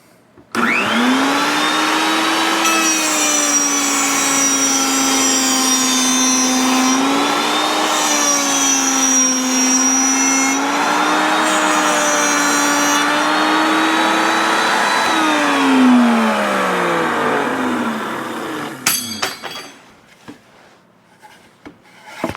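A power cutter slices a wood board for a bathroom shelf: a loud, steady motor whine that dips in pitch under load for about eighteen seconds, then winds down and stops.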